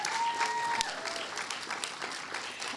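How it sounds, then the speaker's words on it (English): Round of applause from a luncheon audience for a group of future-teacher students at a closing ceremony, steady dense clapping throughout with a few brief tonal sounds early on. "let's give this group a round of applause"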